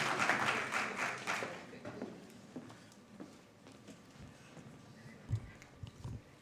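Applause from the audience at a migration debate final opens loud, dense, and close, then thins out and fades to scattered claps and room noise.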